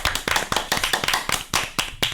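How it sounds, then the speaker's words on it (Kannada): A group claps in a steady rhythmic beat to welcome a guest teacher on a school radio programme, roughly four crisp claps per second, close and loud throughout. "ಚಪ್ಪಾಳೆ ತಟ್ಟಿ ನಿಮಗೆ ಸ್ವಾಗತ"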